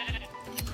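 A sheep in the Minecraft video game gives a short bleat, a brief nasal call repeated twice within under a second, close and moderately loud.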